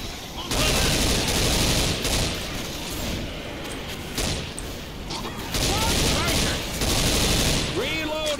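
Sustained automatic gunfire in the zombie co-op shooter Left 4 Dead, loud and close, with long unbroken streams of shots and short pauses between them. Brief chirping game effects are heard near the end, and a voice talks faintly underneath.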